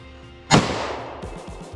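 A single sharp, loud gunshot from a Hi-Point JXP 10mm pistol cracks out, then tails off briefly. A faint, muffled rumble follows.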